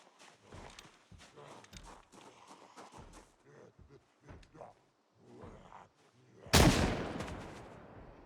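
Gunfire at a zombie in the video game Project Zomboid: a single sharp, loud shot bursts out near the end, after quieter thudding footsteps and faint talk.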